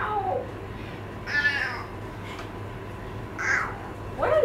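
A child imitating a cat with a few short, high meow-like calls spaced apart, voiced by a young person rather than a real cat, faint over a quiet room hum.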